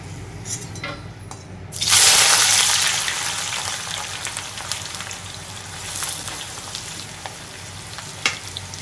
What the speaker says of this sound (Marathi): सर्वात आपण कांदा तळून घेण्यासाठी कढईमध्ये टाकलंय तेल.